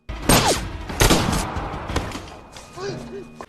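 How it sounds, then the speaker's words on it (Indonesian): Gunshots in a film, three sharp loud reports with ringing tails spaced about a second apart, followed by fainter tonal film sound. "salah satu pria itu malah menembak ke arah Gary"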